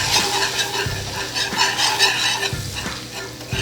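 Flour is stirred into a hot pan for a mac and cheese sauce, giving a close, crackling sizzle with repeated scraping strokes of a utensil about once a second.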